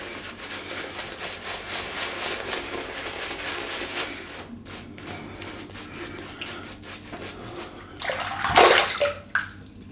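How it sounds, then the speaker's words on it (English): Water runs steadily from a tap, splashing into a shaving brush at a sink during a wet shave. The flow is continuous and moderately close, with a louder burst of splashing near the end. "Right, more water in the brush."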